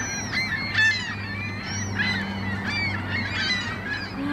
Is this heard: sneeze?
no